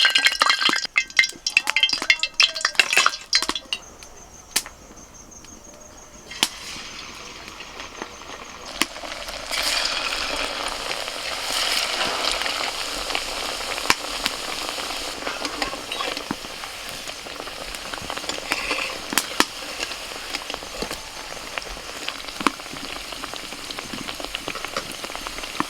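Sabu luchi, sago flatbreads, frying one by one in hot oil: a continuous close sizzle with scattered pops and crackles. Sharp clinks of a utensil on the pan come early and recur throughout.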